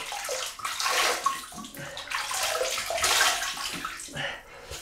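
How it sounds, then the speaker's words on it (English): Running water splashing steadily while someone rinses off after a double-edge razor shave, the broadband wash rising and falling close by with no talk. "I'm going to rinse off."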